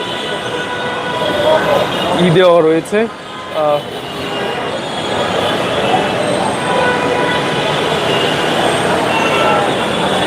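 A metro train at Karwan Bazar station in Dhaka rumbles steadily nearby with a brief squeal of wheels or brakes, while a voice speaks over it for a few seconds.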